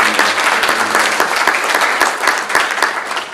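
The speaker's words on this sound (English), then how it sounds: "May you all clap or give yourselves a very big round of applause this morning." A colloquium audience gives a warm round of applause, dense crowd clapping close and loud, swelling and rippling steadily for a few seconds with no talk over it.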